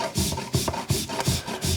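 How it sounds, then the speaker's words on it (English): Chocolate scraped across a fine Microplane or Deiss zester in long, even strokes, a close raspy rubbing repeated about every third of a second. "and this is for really fine grated chocolate"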